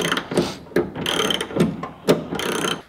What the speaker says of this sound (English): what I'm gonna do is tighten my first bolt with our 19 millimeters